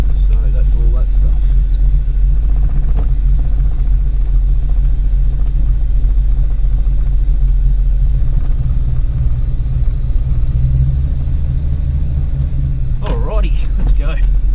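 A Holden Torana's engine idles as it warms up, a steady loud low rumble that continues through the whole stretch, with brief talk near the end.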